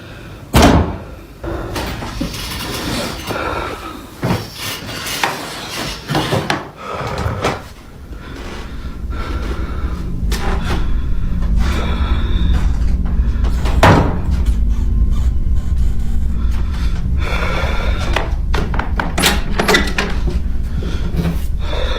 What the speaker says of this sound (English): I just heard knocking from the closet.